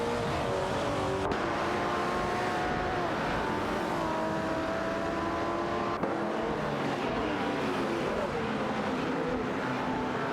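Racing engines in a video game race, including a 1969 Dodge Charger Daytona, drone continuously with shifting whines as several cars run together, a steady loud engine roar throughout with no pauses.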